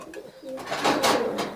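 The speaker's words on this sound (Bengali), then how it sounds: "এটাও 35 ব্লাড লাইনের কবুতর" High Flyer pigeons of a 35 bloodline coo in a loft, one close, fairly loud throaty call swelling over about a second, without talk.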